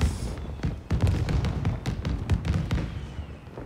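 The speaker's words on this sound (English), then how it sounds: "I like fireworks." Fireworks in a Spider-Man video game, a string of irregular popping thumps and bursts at close range.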